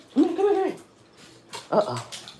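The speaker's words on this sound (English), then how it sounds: "my dog done get tangled up" A tangled dog whimpers in a high, wavering whine, then gives a shorter whining yelp after a pause, close and fairly loud, with faint shuffling movement between the cries.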